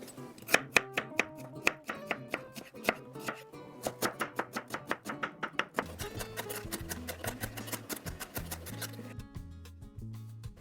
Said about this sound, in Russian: Также мелко режу красный лук.